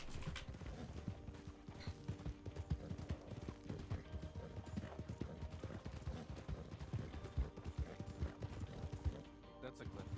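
Horse hooves clip-clop at a steady walking pace across ground in a Western roleplay game, close and rhythmic, with a faint mechanical clatter and ambient noise underneath.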